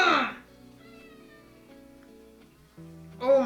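A cat crying at a door indoors, meows at the start and end with soft music and low tones in between.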